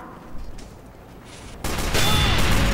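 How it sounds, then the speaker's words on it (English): Loud blast and fusillade in Team Fortress 2 after a quieter stretch of background game noise, the sound jumping up sharply and staying dense and heavy to the end. "I pop a shot and blow someone the fuck up"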